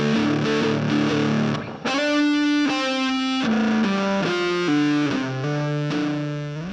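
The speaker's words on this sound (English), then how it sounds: "take a fuzz sound and crank it a lot further up than I initially wanted to" An electric guitar through a fuzz distortion pedal pushed hard, playing a sustained, saturated riff of held notes and chords with a thick, buzzing tone and chorus-like shimmer, loud and alone.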